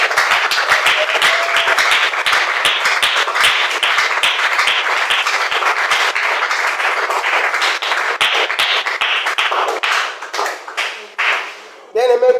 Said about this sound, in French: On acclame pour la parole du Seigneur.